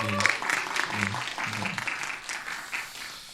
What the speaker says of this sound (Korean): 우리 찬양팀한테 우리 또 격려의 박수를 한번 드리고 하겠습니다